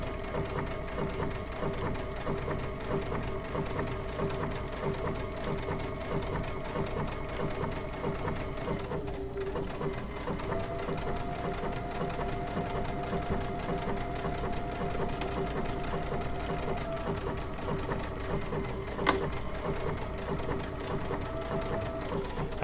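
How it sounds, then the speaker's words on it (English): A Baby Lock Altair sewing machine stitches fabric with a circular attachment, giving a steady rapid mechanical whir and needle chatter that runs continuously at close range, with a brief pause midway and a small click near the end. "I'm just keeping it flat. Let the machine turn the fabric."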